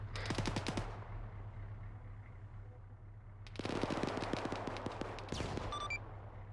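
Rapid bursts of automatic gunfire in a military operation video game, a dense rattling volley at the start, a pause, then two more sustained bursts of shots close by.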